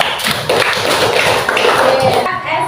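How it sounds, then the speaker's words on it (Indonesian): A third-grade class in an Indonesian primary school claps hands together in brisk taps and thumps, close and fairly loud, with children's voices mixed in. "Beri tepuk tangan."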